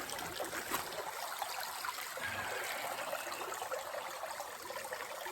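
Water runs continuously through a gold prospecting sluice laid out outdoors, a steady close trickling and splashing wash that holds at an even level throughout with no voices.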